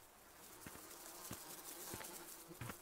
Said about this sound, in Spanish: Y se oyen moscas.